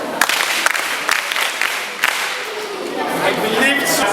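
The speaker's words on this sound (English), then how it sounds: "Clap for yourself." Audience at a peace campaign event in Ghana clapping for themselves, a dense sustained applause with scattered voices and chatter mixed in, rising toward the end.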